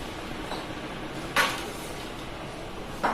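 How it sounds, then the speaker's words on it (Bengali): Metal cooking pots and utensils clatter in a home kitchen, two sharp clanks about two seconds apart standing out over a low, steady background, with no talking. "বদিবে এখানে রান্না বান্না করছে, রান্না বান্নার সরঞ্জাম এখানে তৈরি হচ্ছে"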